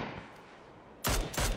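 Two loud, close gunshot bursts in a battle royale video game firefight, arriving back to back after a quieter stretch of in-game ambience.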